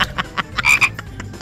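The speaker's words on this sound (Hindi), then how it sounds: "मेंढक बाहर निकलते हैं" Frogs croak outside during monsoon rain, a loud, close chorus of short rhythmic croaks repeating several times a second, with one brighter, longer call in the middle.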